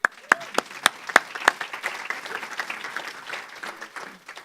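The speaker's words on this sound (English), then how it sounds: "We should applaud them." Applause in a hall, starting with a few loud, sharp individual claps and building into a steady patter of many hands that gradually softens.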